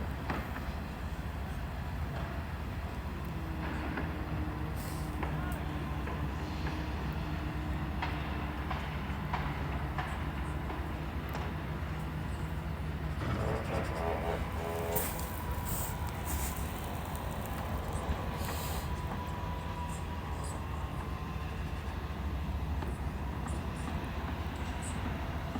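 A train rolls past near a canal in Stratford, London, a sustained low rumble with faint clacking and a brief squeal partway through, heard at a moderate distance against an outdoor urban hum.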